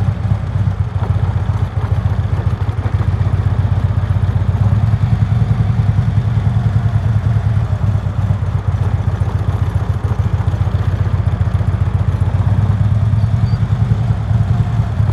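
Harley Road Glide motorcycle engine running at low speed during slow U-turns, a steady close low-pitched rumble with a loping pulse throughout, loud and with no talk.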